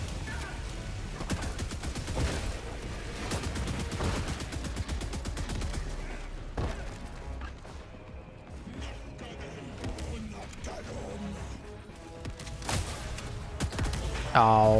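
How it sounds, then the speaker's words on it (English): Mortar fire in Helldivers 2 lands amid a chaotic fight, mixed with steady machine-gun bursts and heavy impacts; a few louder thumps punctuate the din, with some voices among the action. "Oh my god, the mortar!"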